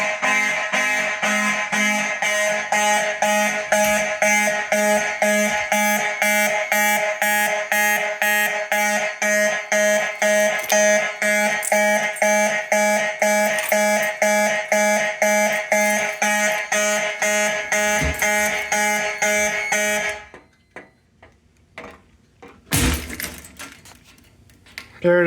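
A building fire alarm system sounds during a test, its horn pulsing in a steady rapid rhythm, loud and close for about twenty seconds before cutting off, followed by quieter handling noises and a brief clunk.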